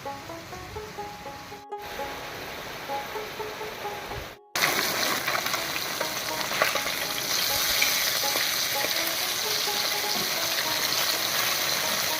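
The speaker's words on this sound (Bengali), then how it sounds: "তেলটা গরম হয়ে গেছে, এবার মাছগুলো ভেজে নিই।" Small river fish (boreli) fry in hot mustard oil in a wok, a steady close sizzle that jumps sharply louder and more crackling about a third of the way through as the fish go in, then holds as a dense spitting hiss.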